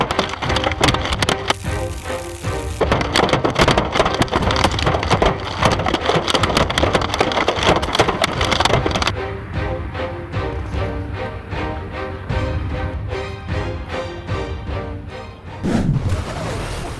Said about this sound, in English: A violent hailstorm in Colorado destroys a car within minutes as massive hailstones smash the vehicle.